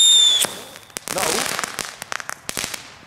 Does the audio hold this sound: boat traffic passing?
no